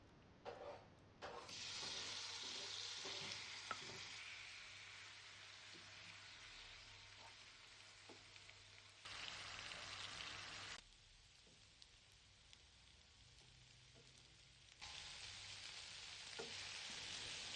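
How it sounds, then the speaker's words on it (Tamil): Chicken frying in a pan with onion, tomato and capsicum for a street-style chicken tikka roll, a bright hissing sizzle that swells and drops in bursts as the pan is stirred, with no talking. "சிக்கனோடவே ஆனியன், டொமேட்டோ அண்டு கேப்சிகம் போட்டு ஃப்ரை பண்ணிக்கோங்க."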